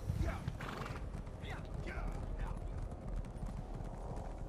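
Horses in the Elder Scrolls Online video game give steady, rapid clip-clopping hooves along with a few whinnies. A party of players talks over it on voice chat.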